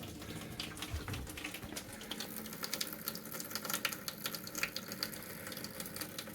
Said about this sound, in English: Immediately you hear water coming out of the faucet above, going into the sink drain.